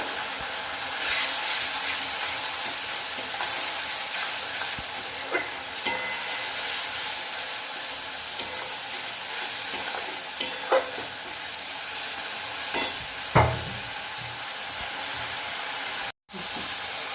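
Spices with chili powder and a splash of water being stir-fried in a pan for a Bengali kochur loti prawn dish, a steady hiss and sizzle with scattered spatula scrapes and clinks, close, with a brief dropout near the end.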